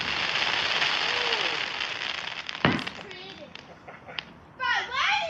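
Outdoor fireworks pop in a dense crackling burst, then a sharp loud bang and a few scattered cracks follow, while children's voices chatter and shout nearby.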